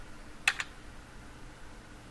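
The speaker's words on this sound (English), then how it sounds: "delete the current address using the backspace key on our keyboard" A backspace key on a computer keyboard is pressed, giving two quick, light clicks close together, then quiet room tone.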